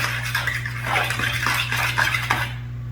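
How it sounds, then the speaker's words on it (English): A fork beats quiche eggs in a bowl by hand, a steady run of quick clinking and scraping strokes against the dish, close and continuous with no talking. "You can probably do this with a whisk, but I don't have one. So it's fork and arm power."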